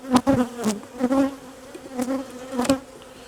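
Honey bees buzz around an open hive being requeened, several close passes flaring up in quick loud bursts over a softer steady hum, with no voices.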